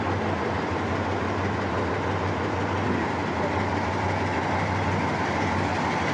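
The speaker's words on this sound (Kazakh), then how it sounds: "Мынау шарылдап зорға жұмыстап тұр моторы." An old engine on railway machinery idles roughly, a constant low throbbing drone with a rattling edge that holds steady and close throughout.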